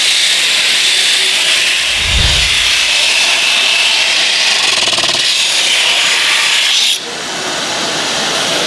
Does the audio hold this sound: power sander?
yes